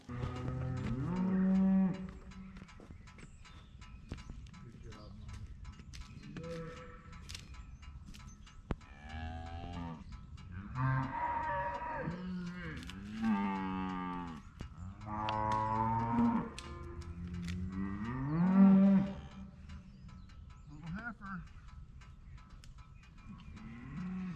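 Farm cattle, cows with new calves, mooing repeatedly: several long, deep lowing calls at varying distances, some loud and near, with quiet stretches between them.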